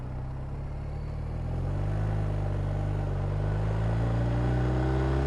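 A BMW R1250RT motorcycle engine hums steadily while riding, its low drone rising slightly in pitch and loudness after the first couple of seconds, close and continuous with no talk.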